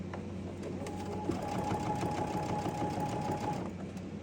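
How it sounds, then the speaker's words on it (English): A sewing machine runs in one continuous steady whirring burst while stitching fabric binding strips together, close and moderately loud with no speech. "We're just going to sew that and finish it up."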